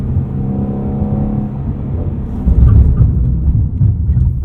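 Ford Mustang Shelby GT350 engine rumbling steadily while driving around town, a low harmonic drone that swells louder with a revving surge midway before settling into a rougher idle-like burble.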